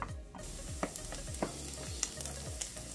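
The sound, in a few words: shallots gently sautéing in a pan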